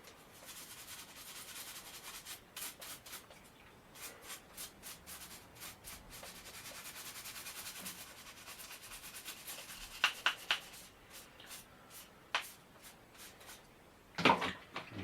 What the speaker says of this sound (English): Now, bypass pruners. And the scrub.